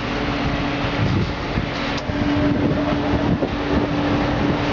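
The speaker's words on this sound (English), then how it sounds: "On top we have a blower fan." A blower fan on top of a chilled water reservoir on a pyrolysis machine runs with a steady, loud mechanical whir and a constant hum, alone throughout.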